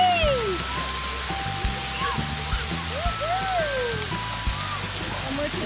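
Water sprays at an outdoor splash pad with a constant hiss like heavy rain, while children's voices and squeals ring out over it.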